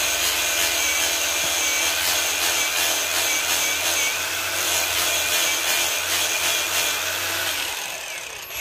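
A battery-powered handheld sander runs with a gel-backed sanding pad while fitting a handle to a frying pan, giving a steady, loud, continuous abrasive whir and rub that stays unbroken for about eight seconds before stopping.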